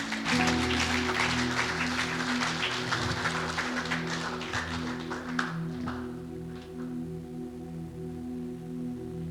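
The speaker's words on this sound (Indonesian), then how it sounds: "Beri tepuk tangan untuk mereka semua" A church congregation at a Sunday worship service claps over sustained keyboard or organ chords, the applause loud at first, then thinning and fading out after about six seconds while the music lingers.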